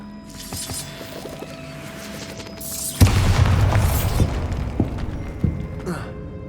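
Bombarda blasting spell explosion in the Hogwarts Legacy video game, a loud booming burst with crashing debris following a spoken voice, then lingering rumbles and smaller impacts.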